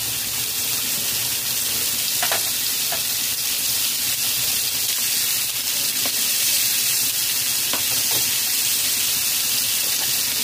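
Chicken pieces fry hard on a high flame for chicken tikka masala, a loud, dense, continuous sizzle with a few scattered scrapes of stirring, close up and with no voices.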